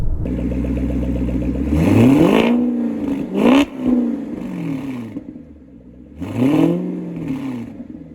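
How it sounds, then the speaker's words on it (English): A 2004 Cadillac XLR with an aftermarket Corsa exhaust sits at idle, then is revved three times. Each sharp, loud rise in pitch falls back to a rumbling idle between the blips. "we have an aftermarket Corsa exhaust on this car, which sounds absolutely fantastic"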